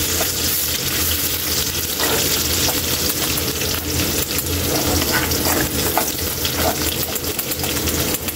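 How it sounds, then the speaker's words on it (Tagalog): Garlic sautéing in hot oil in a pan for a Filipino beef mechado, a steady loud sizzle and crackle throughout with no talking. "Gigisa lang natin ito Kaili yung bawang"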